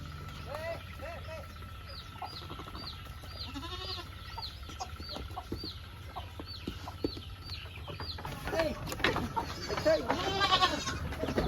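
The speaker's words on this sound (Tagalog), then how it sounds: "Ang mga kambing po natin." Goats on a farm bleat repeatedly over steady background noise, mixed with clucking chickens nearby, growing busier and louder toward the end.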